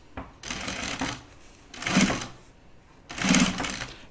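A sewing machine stitching binding onto a quilted project bag, three separate bursts of close, busy mechanical running, each about a second long, with short quiet gaps between them.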